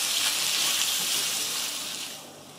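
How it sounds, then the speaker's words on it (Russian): Onion frying in a pan for an oven-baked pilaf, a close, steady sizzling hiss that fades slightly toward the end, with no voices. "Добавляем лук. Обжариваем, пока он не станет золотистый."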